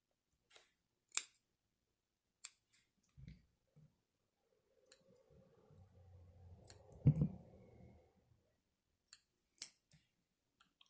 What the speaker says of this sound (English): Once you have your wicking material trimmed